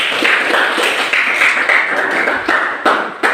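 A class of students claps their hands together during a school civics lesson, a dense, steady patter of many hands close by that holds at an even level for a few seconds with a few sharper slaps.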